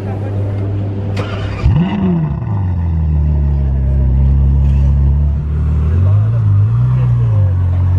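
A Ferrari 812 V12 fires up with a sharp crank and a rising roar, settles into a loud idle, then blips the throttle twice in a row near the end while a person talks nearby.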